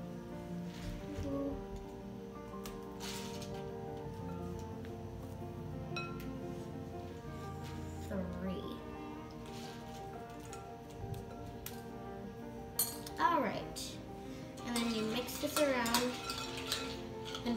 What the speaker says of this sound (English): you're going to add about 3 cups of dried pumpkin seeds